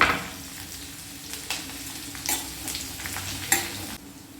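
Onion and green chillies fry with mustard seeds in hot oil, giving a steady close sizzle with several louder scraping stirs of a spoon through the pan. No one speaks.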